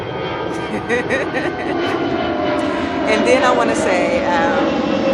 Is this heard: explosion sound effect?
no